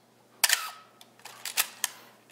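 Canon A1 film SLR shutter firing several times, each release a sharp, bright mechanical snap with a brief whiny tail, spaced irregularly and heard close up in a quiet room.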